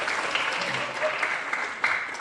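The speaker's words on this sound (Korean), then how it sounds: "우리 한 번 더 박수로 감사드리겠습니다." A youth church congregation applauds in thanks, a dense, steady patter of many hands clapping throughout the short stretch, with a few voices mixed in.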